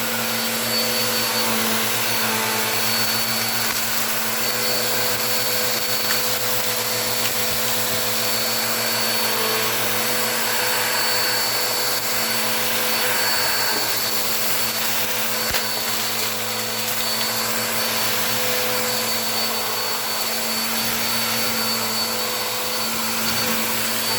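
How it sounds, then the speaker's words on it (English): A vacuum cleaner used for messy jobs sucks up ice salt from a rug, its motor droning loud and steady with a constant tonal hum throughout, no talking. "This vacuum I use more for like messy jobs."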